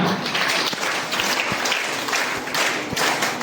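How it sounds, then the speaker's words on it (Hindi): Loud, dense applause from a crowd at a school retirement function, a steady wash of clapping that holds for a few seconds with no voices over it. "इसके लिए जोरदार तालियां।"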